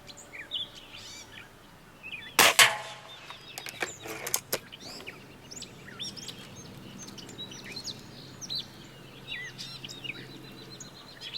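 A .177 or .22 Beeman Silver Kodiak X2 pellet rifle fires one sharp, loud shot outdoors, a single crack followed by a short echo, with birds chirping steadily around it before and after.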